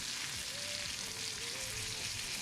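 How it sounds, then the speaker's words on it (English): Lamb chops sizzle in melted butter in a hot pan, a steady, close, broadband hiss running evenly throughout with a faint tonal whine over it and no voices. "I just had to play with them just for a minute in that butter"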